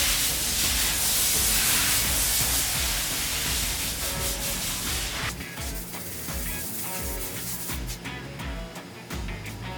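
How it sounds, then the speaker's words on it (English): A touch-up grinding wheel working a stamped concrete overlay, a loud, continuous abrasive hiss and rasp that holds steady, then becomes choppier with short pauses and bursts as the wheel lifts and returns. "I'm going to carefully hit it with the touch-up wheel."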